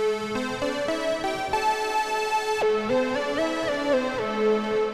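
A basic synthesizer patch built from the combined oscillators of the Clone plugin plays a rich, buzzy melodic line of sustained notes that step and glide in pitch, clean and alone.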